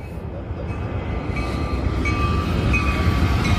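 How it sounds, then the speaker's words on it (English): A short Union Pacific freight train, locomotive 4507 pulling four cars, rumbles steadily past a road crossing near Casa Grande, with a constant low roar and faint metallic squeals drifting over it; no voices. "comes the train. It's a short one again."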